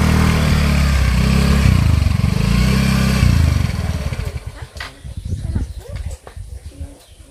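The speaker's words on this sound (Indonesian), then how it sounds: "Lagi markirin dulu motor." A motorcycle is parked close by in a rural village. Its engine idles steadily, then shuts off, and quieter handling clatter and light movement noises follow.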